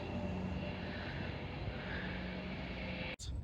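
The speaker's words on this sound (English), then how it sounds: "Pendolino. 1214 Avanti West Coast service in Manchester Piccadilly to London Euston." An Avanti West Coast Pendolino electric train passes on the line through Nuneaton with a steady, fairly faint rumbling roar. A sharp, brief click is heard near the end.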